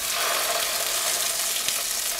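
Garlic fries in a pan, a continuous bright hiss of sizzling oil that stays even and close for the whole short stretch, with no talking.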